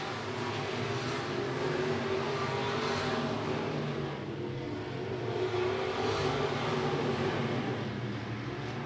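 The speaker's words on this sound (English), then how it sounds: "Down the back straightaway goes your race leader." Sport modified race cars run at I-76 Speedway, a steady, dense engine roar that swells and fades slightly as the field streams by at a distance, with no talk.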